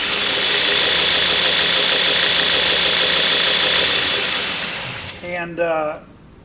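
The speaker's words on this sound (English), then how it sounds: "obviously a variable speed grinder. I can turn it down very low, or I can run it up pretty high." A variable speed knife-making belt grinder with a 1700 RPM motor and KBAC 27D drive runs at speed with a loud, steady whirring whine, then winds down and sputters to a stop near the end.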